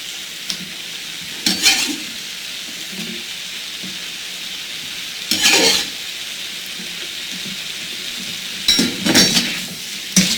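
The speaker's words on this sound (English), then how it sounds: "Let's go ahead and continue to fry this up a little bit." Mango pieces frying in a pan after most of the liquid has cooked off, giving a steady low sizzle broken by three bursts of stirring and clinking against the pan.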